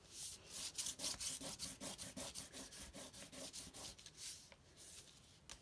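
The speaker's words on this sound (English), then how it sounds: "I'm just going to start rubbing." Rubbing strokes over leaves, likely crayon on paper laid over a fall leaf, come as a quick steady back-and-forth scratching close by, about two strokes a second with no speech.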